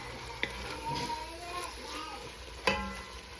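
Italian sausages simmering in a pan with beer, apple cider vinegar and brown sugar give a soft, steady sizzle and bubbling, broken by a couple of sharp utensil knocks against the pan.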